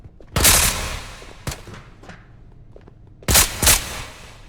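An M240B machine gun fires in the video game Ghosts of Tabor, loud and close, in short bursts: one burst, a couple of single cracks, then two more bursts, with reverberant decay between them.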